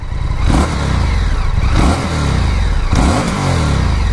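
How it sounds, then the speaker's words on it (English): A 2024 Indian FTR 1200 motorcycle engine with factory exhaust revs hard in three sharp bursts, each climbing in pitch then dropping back to a rough idle, loud and close. "We'll test our throttle response here"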